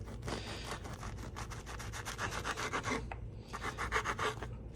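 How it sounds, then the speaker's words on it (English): Knife sawing through a fresh baguette into slices for bruschetta, a rapid series of close, dry rasping strokes against the crust, fairly quiet and with no talk. "So we're gonna cut these into slices like this."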